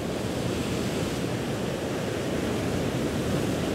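Ocean waves roll onto a beach in a steady, dense wash of surf that stays loud and continuous throughout, with some wind noise and no other sounds.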